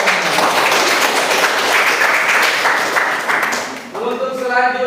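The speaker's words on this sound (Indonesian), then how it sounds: "tepuk tangan dulu buat teman-teman." Students in a classroom lesson applaud their classmates with a burst of dense clapping. It holds loud for a few seconds, then fades as a teacher's voice comes in speaking over the tail.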